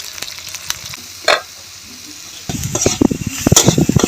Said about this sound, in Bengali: আমার পেঁয়াজটা ভাজা ভাজা মতন হয়ে গেছে।